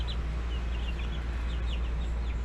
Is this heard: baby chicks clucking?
yes